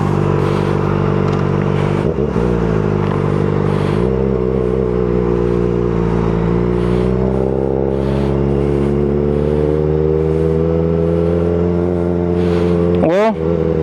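A Kawasaki ZX-4RR motorcycle engine runs loud and close, its pitch rising and falling through repeated revs with gear-like shifts and a sharp blip near the end, while a voice talks over it.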